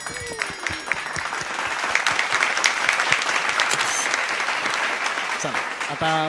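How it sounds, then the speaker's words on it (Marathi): An audience at a Padhanisa music competition finale breaks into sustained applause as a results announcement is made, dense clapping filling the room loudly for several seconds, with a few individual claps standing out. "टाळ्या."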